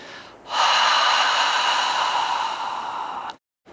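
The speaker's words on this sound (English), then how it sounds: "produce this kind of whispering sound through the mouth" A long, steady breathy exhale through an open mouth in Ujjayi breathing, a soft airy hiss held for about three seconds, close and alone.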